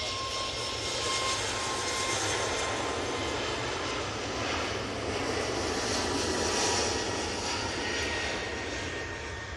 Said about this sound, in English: That was a weird spool up.